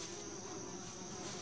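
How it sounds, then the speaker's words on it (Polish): Flies buzzing in the video game Yuppie Psycho, a continuous faint droning hum with a steady pitch and no talk. "jestem ciekaw, czy jakoś można te muchy jeszcze jakoś inaczej przegonić"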